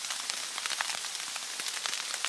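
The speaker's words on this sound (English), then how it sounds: "That sounds a lot like mixed rain and possibly sleet" Mixed rain and sleet falling in a North Carolina forest during a freezing storm: a dense, steady hiss of countless small patters and ticks on surfaces, close and continuous with no voices.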